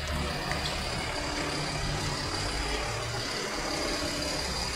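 A garbage truck idles at night in Itaquera, São Paulo, its engine giving a steady, even rumble with broadband street noise, continuous and moderately close, with no talk.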